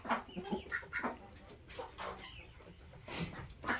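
A Wyandotte chicken clucks repeatedly in short irregular bursts, close by and fairly quiet, with a sharper squawk near the end.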